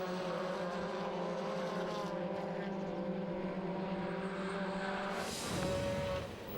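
Mini Cooper S race cars in the 2008 Mini Challenge UK at Croft circuit, heard as a steady engine drone from onboard that holds its pitch, then swells and shifts near the end.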